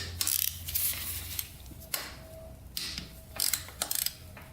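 A hand ratchet loosens the cam bolts on a Honda TRX450R quad engine, giving several short bursts of metallic clicking at close range, separated by brief pauses, with no talk.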